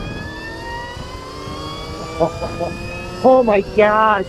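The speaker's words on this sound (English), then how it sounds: "this thing is pretty loud, but it sounds like it has like a supercharger almost. But that is because of the direct chain drive." A Goat Power Dirt Goat 96V v2 electric dirt bike with direct chain drive gives off a loud, steady, rising mechanical whine like a supercharger. Excited voices break in over it near the end.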